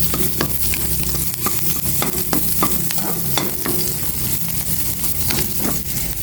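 Garlic fries loudly in a pan for vegetables, a dense continuous sizzle with frequent scraping stirs and clinks of the utensil, close and steady throughout with no talking.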